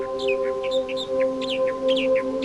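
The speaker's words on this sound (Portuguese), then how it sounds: "O sabiá das Bahamas canta melodicamente em galhos altos" Bahama mockingbird singing melodically from high branches, a run of quick varied chirps and whistled phrases, moderately close, over a steady droning hum in the background.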